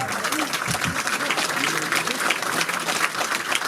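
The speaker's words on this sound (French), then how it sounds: "On peut l'applaudir encore très fort." Applause from a seated audience at a Valentine's Day matinee show, continuous dense clapping at steady loudness throughout, with a few voices mixed in.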